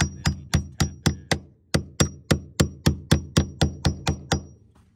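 A hammer taps a nail driven with a reversed nail set, its broad end on the nail head, while fitting windows on a shipping container barn: about fifteen sharp, evenly paced metallic strikes, close and clear with no talk.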